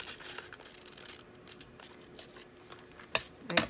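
Scissors snip through paper while a craft bundle is trimmed, a series of close, crisp cutting strokes with rustling paper, growing a little louder toward the end.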